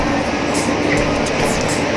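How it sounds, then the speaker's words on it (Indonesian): A local economy-class passenger train in Java, Indonesia, stands at Cepu station; a loud, steady rumble of train and station noise with hissing and faint mechanical clatter fills the brief moment, no speech. "sekarang kereta ekonomi lokal sudah tiba di stasiun Cepu"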